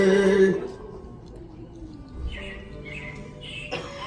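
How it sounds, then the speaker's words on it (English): Recorded robin birdsong plays inside Disney's Carousel of Progress theater show, short chirps and tweets rising after a loud musical opening, moderately near over a soft hum. "it looks like the Robins are getting ready to celebrate Valentine's Day today"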